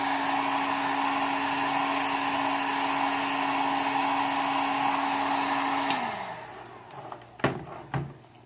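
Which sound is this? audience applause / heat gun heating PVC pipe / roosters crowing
heat gun heating PVC pipe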